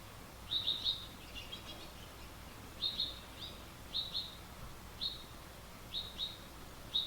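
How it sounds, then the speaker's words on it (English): Baby birds of several species chirp with a cardinal mother nearby, giving short high-pitched peeps in scattered bursts of two or three that sound moderately close, over a quiet outdoor hiss. "Got some more baby bird action, different species."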